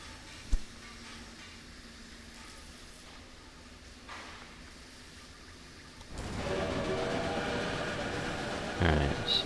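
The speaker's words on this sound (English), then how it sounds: "Alright, so there are our trains." Trains rumble along in the video game Railway Empire with a low steady rolling drone that swells louder near the end, a faint horn-like tone and a sharp knock punctuating it, someone talking over it.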